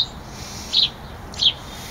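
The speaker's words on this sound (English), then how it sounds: "The birds are very happy." Two short, high bird chirps sound about half a second apart outdoors over a low, steady background hum, with no talking.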